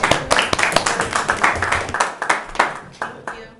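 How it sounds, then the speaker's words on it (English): Sparse applause from a small group at a city planning commission meeting, individual claps loud and close with an uneven rhythm over a few seconds. "Permission to clap? You can do that if you like."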